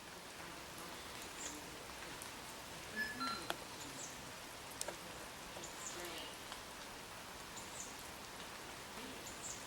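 Light rain begins falling around an outdoor spot near Beauchief Abbey in Sheffield, a soft steady patter of drops on surfaces, faint and continuous with a few slightly louder ticks.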